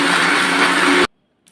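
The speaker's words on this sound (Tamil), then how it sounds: "மூடி போட்டு ஜாரில் மூடி போட்டு அரைச்சிக்கணுங்க." A mixer grinder jar blends tomato chutney in a loud, steady electric whir that runs about a second before cutting off abruptly, leaving a brief faint knock afterward.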